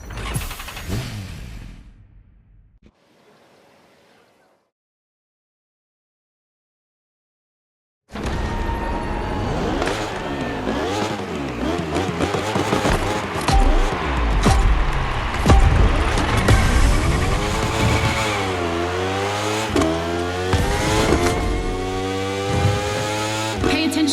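Racing engines from The Crew Motorfest video game roar loud and continuous, revving up and down through shifting pitch sweeps after a brief faint intro and several seconds of silence.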